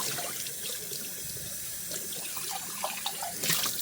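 A blue and white cup being rinsed under a running kitchen tap, with steady water flow splashing into the sink and brief louder splashes near the end, close by and alone.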